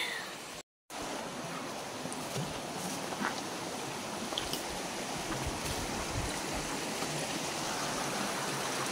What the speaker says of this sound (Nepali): यही हो साथीहरू खोला